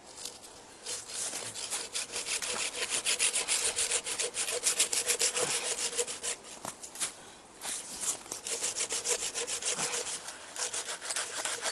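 A hand saw cutting chaga fungus off a tree trunk outdoors, steady back-and-forth rasping strokes in a fast, even rhythm, close and clear with no talk.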